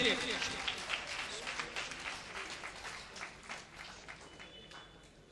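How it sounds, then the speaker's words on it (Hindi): An audience at a mushaira in Nagpur applauding, a broad wash of clapping that starts loud and gradually fades over a few seconds in a large hall. "जोरदार तालियां बजाएं"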